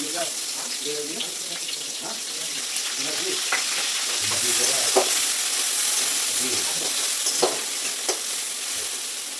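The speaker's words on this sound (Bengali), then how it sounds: "পেঁয়াজটা একটু লাল লাল হয়ে ভাজা যাক।" Onions frying with whole cumin and bay leaf sizzle and crackle steadily in a hot pan, moderately loud and close, with occasional scraping stirs and no clear speech.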